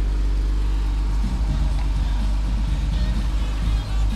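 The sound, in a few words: 2015 Jeep Grand Cherokee Limited engine running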